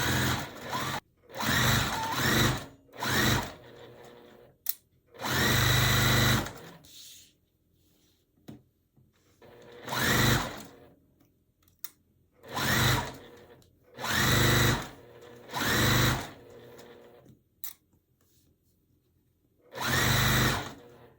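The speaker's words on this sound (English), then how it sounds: "and then I'm gonna just sew" A sewing machine stitches quilt pieces together for a butterfly quilt, running in short, loud, motorized bursts separated by silent pauses of several seconds, each burst a whirring run of stitches.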